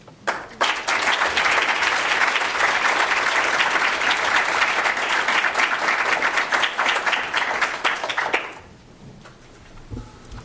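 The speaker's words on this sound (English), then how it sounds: "Thanks all of you for that really warm round of applause." Warm applause from an audience at a tenth-anniversary event's opening session, loud and sustained for about eight seconds before quickly dying away into room quiet.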